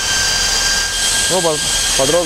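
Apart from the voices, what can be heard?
loud cooling fans for car audio amplifiers switched on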